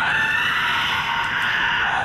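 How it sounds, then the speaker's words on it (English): A creature in the horror video game SOMA gives a sustained, loud, high shrill shriek that fills the whole stretch without pause, with faint peeping ticks on top. "Shrieking and a peeping."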